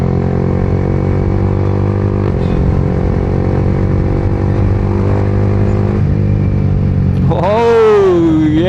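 A 2025 Yamaha R15M motorcycle at high RPM holds a loud, steady high-pitched engine whine throughout, then revs sharply upward near the end, with a brief shift dip midway.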